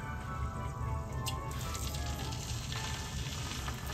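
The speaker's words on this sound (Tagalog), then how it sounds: "Isa na po natin iprito ang ating pinatisang chicken wings." Chicken wings marinated in fish sauce deep frying in plenty of oil, a steady dense sizzle and crackle with faint pops, close and continuous.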